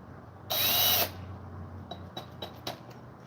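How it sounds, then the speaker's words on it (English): A power drill drives screws back into a chainsaw under restoration, one sustained half-second whir, then several quick short bursts as the screws seat, close and clear with no talk. "Put our screws back in."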